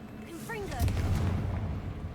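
Confringo fire spell cast in the video game Hogwarts Legacy, a deep fiery blast booming up right after a short spoken exclamation and rumbling on briefly before fading.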